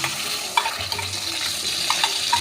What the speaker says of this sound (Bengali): এই দইটা আমি গ্যাসটাকে লো করে দিয়ে দিচ্ছি।